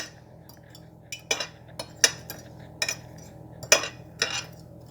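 A utensil clinks against a bowl while seasoning is mixed into flour, with about seven sharp, irregularly spaced taps over a quiet background.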